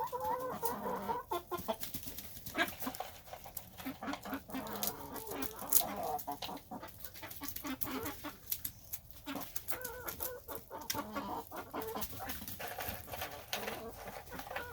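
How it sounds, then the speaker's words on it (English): Several 3-month-old Rhode Island Red chickens cluck and murmur continuously close by while being fed, with scattered pecking taps and the occasional sharper squawk. "I'm feeding my 3-month-old chickens."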